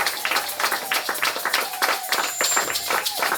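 A church congregation claps together in quick, steady rhythmic bursts during a worship service, the hand claps fairly close and continuous across the short stretch.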